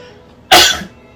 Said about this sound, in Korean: 갑자기 기침이 나왔습니다